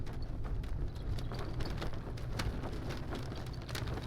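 Steady rain with a low rumbling undertone of thunder during a storm in the video game Beyond Two Souls, a continuous dense wash with scattered drop patters, no speech.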